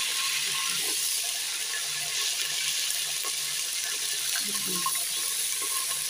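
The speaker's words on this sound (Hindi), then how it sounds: "घी जो है गर्म हो चुका है, अब मैं इसमें प्याज ऐड कर रही हूँ" Onions hit hot ghee and sizzle in a pan, a dense, steady hiss with scattered crackles and light clinks of utensils, continuous and close, with no voice over it.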